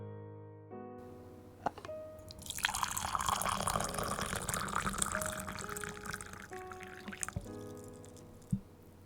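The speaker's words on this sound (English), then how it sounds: "I pour the hot tea from the teapot into the teacup." Hot tea pours from a teapot into a teacup in a quiet Japanese wagashi workshop, a soft splash that builds into a steady trickling stream and then thins to a few last drips, close and unaccompanied by speech.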